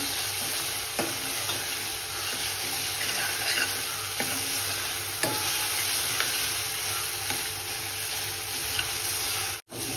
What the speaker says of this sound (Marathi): कांदा टोमॅटोला बाजूने तेल सुटायला लागलेलं आहे. म्हणजे हा छान परतायला लागलेला आहे.